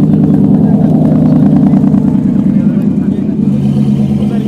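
A Singer Porsche 911 Turbo supercar's engine roars loud and close with a sustained low growl, heard in a busy supercar paddock at a hillclimb event.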